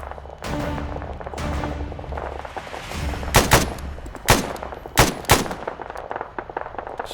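Video game gunfire in Arma 3 cracks out as several loud, separate shots and short bursts over a steady low rumble of background battle, with no talking.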